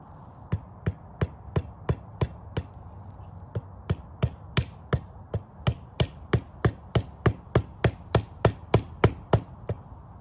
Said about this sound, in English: Now, just going to tap on my wedge.